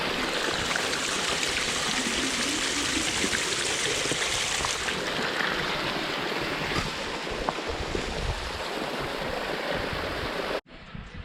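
A river in Chile near Villa Cerro Castillo rushes steadily with a broad, loud, continuous wash of flowing water, ending in a sudden cut near the close.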